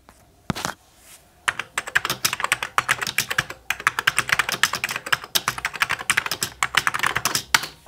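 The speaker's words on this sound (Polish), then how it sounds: "jak brzmi klawiatura z Amigi." Membrane keyboard of an Amiga 600 computer being typed on: a short burst of presses, a brief pause, then a long steady run of soft, close, rapid keystrokes with no voice.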